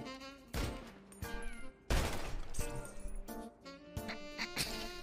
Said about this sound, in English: Oh my God, Shelly killed you, bro.